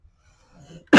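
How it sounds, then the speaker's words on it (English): A single sharp cough bursts out loud and close at the very end, after a stretch of faint low murmuring. "here's the coughing again"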